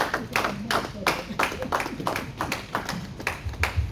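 A church congregation at a French-language evangelical service claps in a steady rhythmic beat to acclaim the Lord, lively and close, with voices singing or calling out over the clapping.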